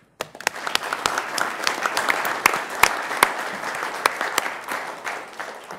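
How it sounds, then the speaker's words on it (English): Civic audience applause breaks out abruptly after a speech to Sioux Falls residents, a dense, fairly loud burst of clapping with sharp individual claps standing out, sustained and then tapering toward the end without talk. "This round of applause is for all of us"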